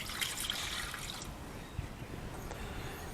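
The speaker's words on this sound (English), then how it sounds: "We're going to start with some water in the bottom of the steamer" Water runs into the bottom of a steamer pot set up for steaming eggs, a steady close trickling and splashing that carries on alone through the moment with no talk.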